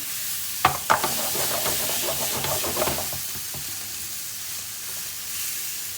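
A vegetable and coconut curry base cooks in a pan with a continuous sizzle and frying hiss, broken early by a few sharp knocks and scrapes of stirring, then settling into steady bubbling frying on its own.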